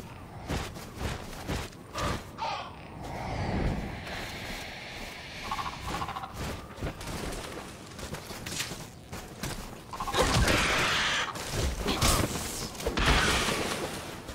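Crows caw in the Resident Evil 6 video game, harsh calls scattered over a busy mix of gunfire, footsteps and other game effects.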